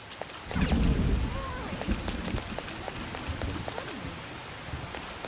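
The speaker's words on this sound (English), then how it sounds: "Nobody told me it would rain today." Rain falls in the video game Individuo 5, a steady patter of scattered drops with a louder splashing burst near the start and a voice speaking briefly over it.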